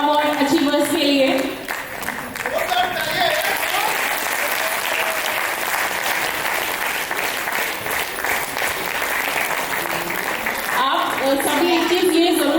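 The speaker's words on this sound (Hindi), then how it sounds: "एक बार जोरदार तालियां हमारे मिलेनियर अवार्ड अचीवर्स के लिए।" Sustained, dense audience applause at an awards night honoring achievers, loud and steady for the whole stretch, with a voice speaking over it near the start and again at the end.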